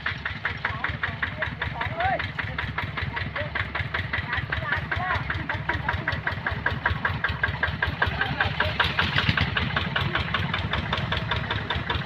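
Several car engines idling together while parked in a row, a loud steady rumbling drone with a pulsing beat throughout.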